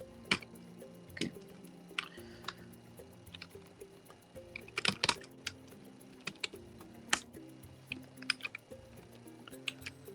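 A computer keyboard clicks with quiet, irregular keystrokes and short flurries while Java code is typed for a LeetCode minimum path sum solution.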